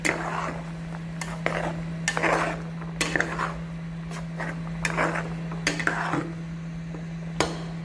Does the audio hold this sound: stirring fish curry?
yes